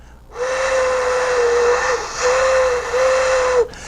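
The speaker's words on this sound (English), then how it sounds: "So I need a straw to focus where my air is blowing across that opening." Air blown through a flattened straw across an opening gives a steady airy whistle-like tone with heavy breathy hiss, sustained in a few long blows separated by brief breaks, close and fairly loud.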